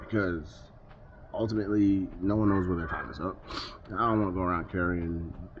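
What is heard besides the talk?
No everyday noises stand out.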